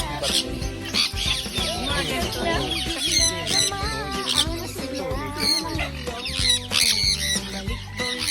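Hens and a rooster cluck and squawk in a busy, overlapping chorus close by, with people talking underneath.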